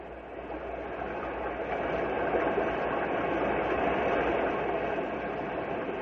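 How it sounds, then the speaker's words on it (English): Loud, continuous rushing roar of fast river water swollen with spring thaw, a dense unbroken wash of noise that swells slightly midway. "This is the sound of a swollen river."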